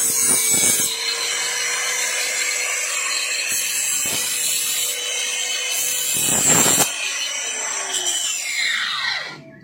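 A stainless steel slaughtering machete is scraped repeatedly against the rim of a bowl to sharpen it, making a loud, harsh, sustained grinding rasp with several sharper strokes and a faint ringing tone, ending in a fading squeal.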